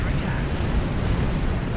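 A gas cloud bursts in a Star Trek Online space battle: a loud, continuous rumbling roar that fills the short moment without any break.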